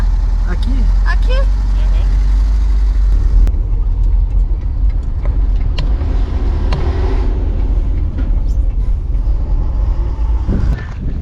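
A car lived in on a mountain road trip rumbles along and maneuvers into a parking spot, a loud steady low engine and road drone with brief clicks, while people talk over it.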